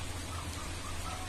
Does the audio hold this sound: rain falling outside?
yes